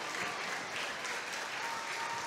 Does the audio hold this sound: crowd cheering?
yes